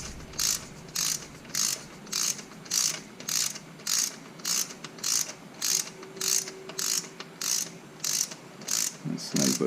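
Torque wrench ratcheting on thermostat housing bolts of a 1986 IROC-Z, a regular rhythm of close, crisp clicking strokes repeated about a dozen times with short pauses between.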